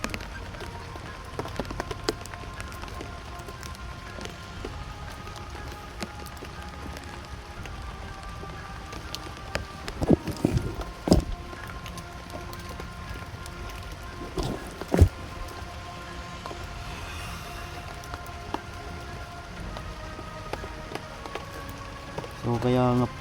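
Steady rain falls throughout, a dense, even hiss with scattered louder drops and occasional sharper knocks, continuing unbroken for the whole stretch.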